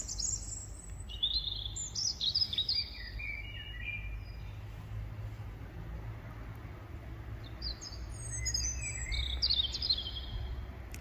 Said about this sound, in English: It's December and birds are singing like in summer.